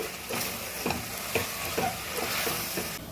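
Chicken with tomato, fresh mint and coriander being stirred in a pan for biryani, a steady close sizzle broken by several soft scraping strokes of the spoon, with no voices.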